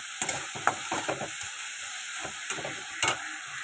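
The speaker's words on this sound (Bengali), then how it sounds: "উচ্ছে আর আলু ভাজা করছি" Bitter gourd and potato fry in hot oil under a steady sizzle, broken by repeated sharp scraping clacks of stirring at an uneven rhythm, close by and with no talking.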